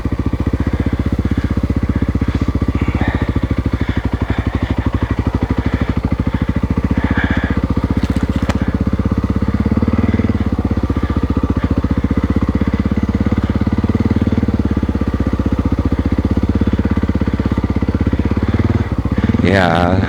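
A Honda XR600R motorcycle engine idles steadily and a little high, a continuous close mechanical throb that runs for the full stretch, with someone talking intermittently over it.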